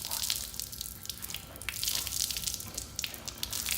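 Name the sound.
wringing water out of a wet chamois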